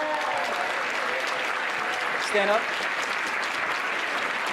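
An audience gives a sustained round of applause at a Blobfest 2014 event screening, steady clapping filling the room while someone speaks over it.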